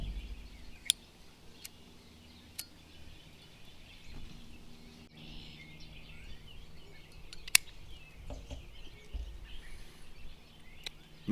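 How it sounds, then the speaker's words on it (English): Birds calling outdoors, with a few sharp chirps scattered sparsely over a quiet, faint background hum, distant and soft with no talking. "I don't know if you can hear the birds in the background."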